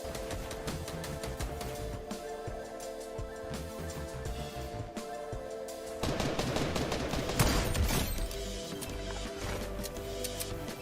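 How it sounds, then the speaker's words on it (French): Gunfire from a sniper rifle in the Fortnite video game, loud and sharp among dense game effects and music, with a heavier burst of noise partway through. "il a pu réaliser un superbe coup de sniper à travers sa construction"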